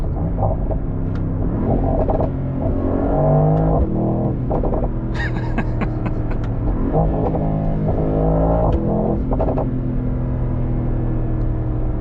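A Mercedes-AMG sports car engine revs hard and rumbles close by, pitch climbing and dropping with sharp throttle blips and a deep exhaust growl.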